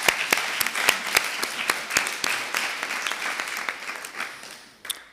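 Sustained applause fills a municipal council chamber as a councillor, Monsieur Tobias, is elected by acclamation: many hands clapping steadily at close range, with sharp individual claps standing out, tapering slightly before a final few claps.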